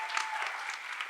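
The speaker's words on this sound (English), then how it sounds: "let's give a round of applause for that" A short burst of audience applause at a live-broadcast beauty pageant, dense clapping at an even, moderate level with no voices over it.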